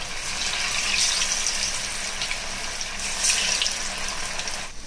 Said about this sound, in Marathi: आता कोथिंबीर वड्या आपण मंद आचेवर तळून घेऊया।